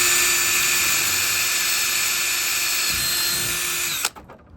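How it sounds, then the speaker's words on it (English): A power drill bores mounting holes in a board for a tailgate kitchen, a loud continuous high whine held for about four seconds before stopping abruptly, leaving only faint handling sounds. "Now it's time to drill your mounting holes."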